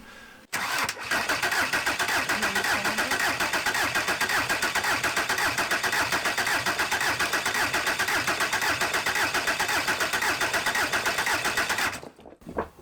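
A junkyard engine meant for a Transporter van cranks with a fast, steady mechanical chatter for several seconds, loud and close, then cuts off abruptly.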